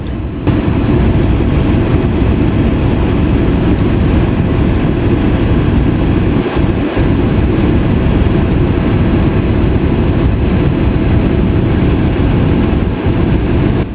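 Loud, unbroken engine drone with a low rumbling hum, as heard from inside a helicopter in flight over Araku.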